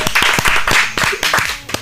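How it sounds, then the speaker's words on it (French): Studio crowd clapping for a joke, a burst of dense claps with rhythmic hand strikes, fairly loud and close, with no talk over it. "On peut applaudir pour ça les gars."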